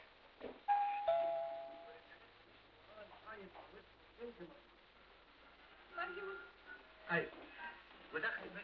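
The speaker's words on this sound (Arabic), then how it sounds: "انتوا ايه مش سامعين الجرس؟" A two-tone doorbell chimes once near the start, followed by voices talking and shuffling sounds in a room.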